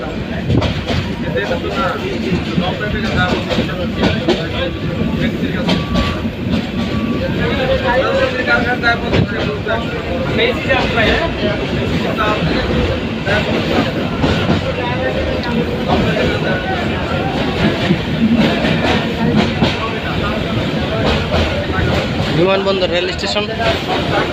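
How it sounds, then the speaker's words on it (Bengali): The small Surma Mail local train rolls into Dhaka Airport railway station, a loud, continuous rumble of wheels and carriages with steady rattling throughout, while someone talks over it. "ট্রেনটি অবশেষে ঢাকা বিমানবন্দর রেল স্টেশনে প্রবেশ করেছে"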